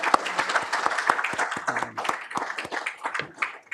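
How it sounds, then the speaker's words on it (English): Scattered applause from a small audience at a nutrition and cancer talk, distinct individual claps in an uneven patter lasting a few seconds, with a faint voice briefly underneath. "Can I please get a hand of applause for those guys?"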